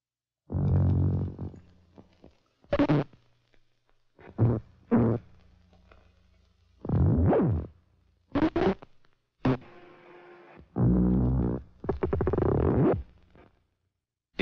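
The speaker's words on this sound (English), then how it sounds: "has been making some hand-drawn sounds, and now he's going to hear them for the first time" Hand-drawn optical film soundtrack played back on a moviola, giving short synthetic buzzing and tonal bursts separated by silences, some low and droning, some brief and bright.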